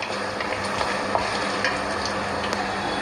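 Chicken sizzles in a pan as it is stirred, a constant crackling fry broken by light scraping and clinks of the spoon, close and moderately loud, with no voices.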